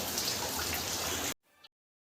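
Steady rain hissing and pattering continuously, then cutting off abruptly into near silence.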